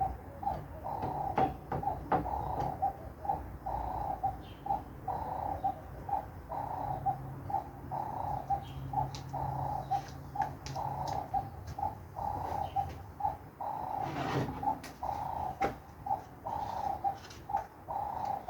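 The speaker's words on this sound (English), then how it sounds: "I don't know if you can hear the doves in the trees" Doves coo in large trees just outside a workshop, a soft repeated call at a steady rhythm that keeps going in the background alongside scattered taps and clicks.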